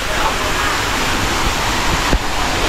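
Water pours steadily at the Chantathen waterfall in the rainy season, a constant broadband rush filling the scene, near and moderately loud, with a brief knock or thump partway through.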